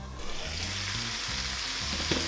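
Minced meat browning in a frying pan sizzles steadily throughout, a close, even crackle with a few faint scrapes and no talking.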